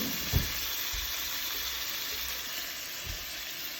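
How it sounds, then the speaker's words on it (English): Food sizzles steadily in a frying pan while amatriciana cooks, a continuous close hiss broken by a few soft low knocks. "you see this is sizzling away"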